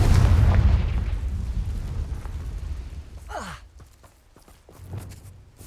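A Confringo blasting spell explodes in the Hogwarts Legacy video game: a loud, deep rumbling boom that slowly fades, followed by a sharp whooshing sweep and a few faint clicks.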